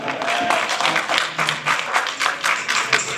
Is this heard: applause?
yes